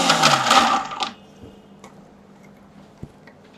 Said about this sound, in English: I'm going to grind it again